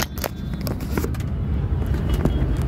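A Delhi-registered Ola/Uber cab running with its AC on, heard as a brief stretch of steady road and engine rumble with a few sharp clicks over it and no talking.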